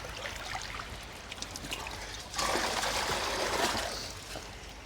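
Water dribbles and trickles down the viewing window of a koi pond in a steady splashing wash that grows louder partway through.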